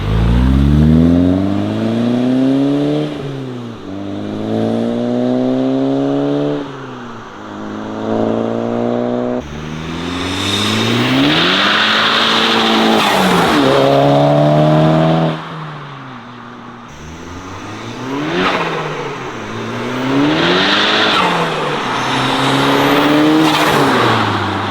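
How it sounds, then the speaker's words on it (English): A Volkswagen MK6 GTI with an upgraded K04 turbo revs hard through several gears, its engine note climbing and dropping repeatedly with turbo intake whoosh, loud and near as it drives by. "guys should be able to hear the intake suck in"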